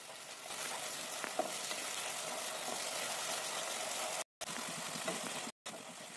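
Ginger-chili paste and pointed gourd seed paste sizzle steadily in a pan as stuffing for a coconut and paneer filling, a continuous dense frying hiss with soft stirring scrapes, broken by two brief silent cuts.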